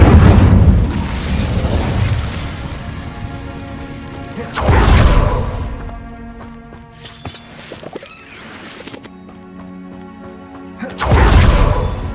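Fire spell bursts cast in the video game Hogwarts Legacy, with loud whooshing blasts near the start, around five seconds and again at the end, separated by quieter crackling and ringing tones.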